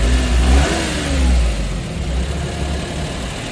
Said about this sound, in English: The idle is a little high.